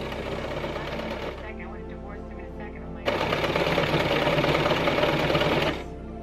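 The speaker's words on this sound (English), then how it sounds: "And then you just sew it into place on both sides." A sewing machine stitches pockets onto low-waist cotton pants in two runs of rapid, even mechanical chatter, close and clear, the second burst louder and steady for about three seconds.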